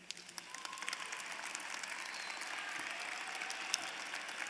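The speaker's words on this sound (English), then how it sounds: "give a round of applause to show your gratitude" Graduation audience at a 2017 college prep ceremony applauding the graduates, a steady wash of many hands clapping at moderate distance, building slightly and holding even throughout, with no talking.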